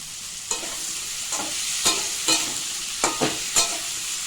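Pumpkin stalks sizzle in a hot pan as they are stirred, a steady frying hiss broken by several scraping strokes of the spatula at irregular intervals, close and alone.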